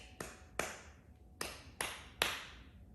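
Five sharp hand claps ring out in a quiet room, spaced unevenly, crisp and close, each decaying quickly into silence.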